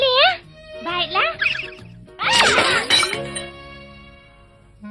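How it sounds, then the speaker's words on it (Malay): In a Doraemon cartoon, children's voices chatter, then plates crash and shatter in a sharp clattering burst, followed by a ringing clink as the pieces settle. "Bunyi pinggan pecah tadi pun termasuk"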